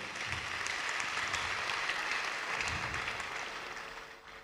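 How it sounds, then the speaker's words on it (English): Audience at a university lecture on policing in Ghana applauding, a continuous moderate spatter of clapping that stays fairly even, then tapers slightly toward the end. "A round of applause again."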